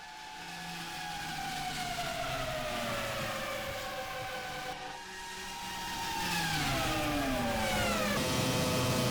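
A 1996 Formula 1 car's V10 engine screams at full throttle in the Automobilista racing sim on the Gálvez circuit, a loud sustained high whine that sags in pitch, then climbs again through gear changes.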